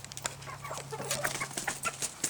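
Chickens in a backyard flock cluck and squawk in short, repeated bursts, near and moderately loud, over a steady low hum.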